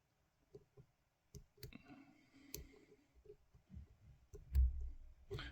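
Lock pick working the pins of an old brass Union padlock, giving a series of soft, close clicks and small metallic ticks spread unevenly through a quiet room, with light scraping and handling between them.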